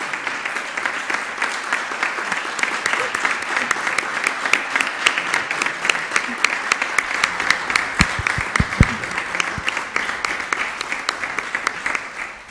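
Steady applause from an audience greets children coming onto the stage at an awards ceremony in Murcia, with dense clapping holding for the whole stretch and a few louder claps standing out near the end.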